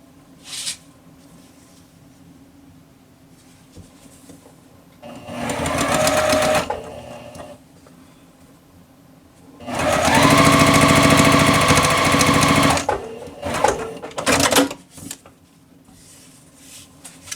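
A sewing machine stitches quilt block pieces in two close, steady bursts, a short run and then a longer one, with quiet pauses and faint handling noises between them.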